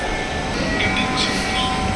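A Dhaka metro train rumbles past with a steady roar and some high squealing, heard briefly and at moderate volume.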